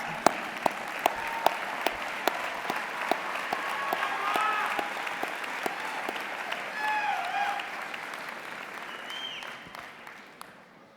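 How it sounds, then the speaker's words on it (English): A graduation commencement audience applauds for student leaders, a broad, continuous wash of many hands clapping with a few louder nearby claps standing out, faint voices murmuring underneath, the applause tapering slightly at the end. "And please give your student leaders a round of applause."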